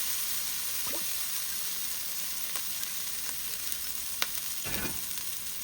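Masala frying in olive oil in a pan, an even, steady sizzle and hiss throughout with a few faint stirring scrapes, close by and alone.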